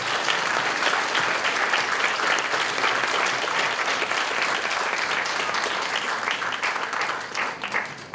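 Sustained, even applause from an audience at a spelling bee championship, honoring the students: dense, steady clapping that runs for several seconds before tapering slightly at the end.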